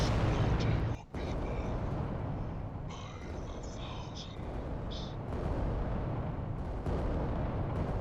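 Heavy booming volcano cannon shots fire in the Adeptus Titanicus video game, rumbling explosions with a sharp blast near the start, under continuous battle noise.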